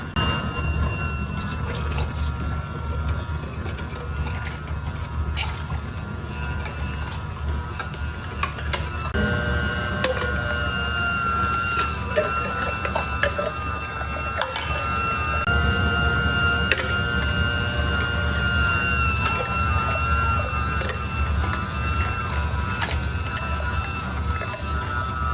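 Fretta cold press juicer running on oranges, a steady quiet motor whir with faint ticking and dripping throughout, close and continuous, with no voices over it.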